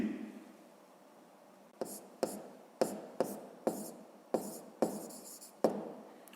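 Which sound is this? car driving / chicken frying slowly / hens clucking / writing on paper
writing on paper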